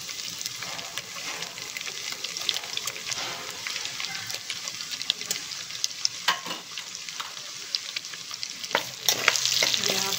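Whole spices and onion fry in oil in a pressure cooker, a crackling sizzle up close with spatula scrapes and taps as they're stirred, steady throughout and no one speaking.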